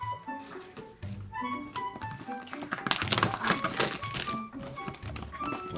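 Cardboard box of da Vinci 3D printer filament being opened by hand, with crinkling plastic wrap and cardboard rustles, soft thumps and crunches over several seconds, close by with no talking.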